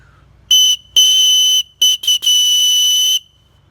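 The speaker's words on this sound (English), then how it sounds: "So let's test out the whistle." A survival whistle from a paracord bracelet in a budget Wandering Raven kit gives a run of shrill, loud blasts: a short toot, a long blow, then a few choppy short bursts and a final sustained blast.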